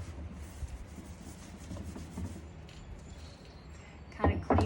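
Steel wool rubbed back and forth over a wooden tabletop during refinishing, a soft steady abrasive scrubbing that stays low and continuous, ending in a couple of louder knocks.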